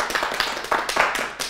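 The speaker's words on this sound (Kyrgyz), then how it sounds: "Убакыт бүттү, кол чабуулар" A handful of people clap on a Bishkek couples' game show: a short burst of scattered, bright hand claps, close and fairly loud, lasting barely two seconds.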